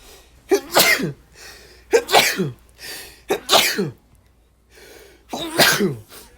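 Four loud sneezes from a person, spaced about a second or more apart, each a sharp burst with a breathy tail, stand alone against a quiet background.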